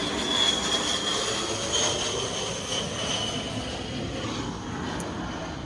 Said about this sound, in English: oops, airplane.